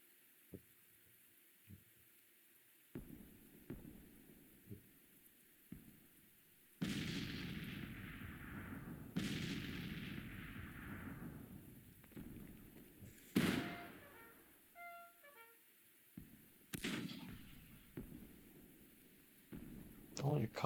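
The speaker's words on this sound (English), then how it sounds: "Only a couple of batteries firing at me right now." Civil War artillery batteries firing in Grand Tactician: The Civil War, several deep booming cannon shots spaced seconds apart over light ambient battle noise, varying from distant thumps to louder blasts.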